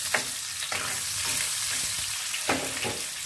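Onion sautéing in hot oil for pancit bihon gives a steady close sizzle, punctuated by several sharp spatula scrapes and stirring clicks at irregular intervals.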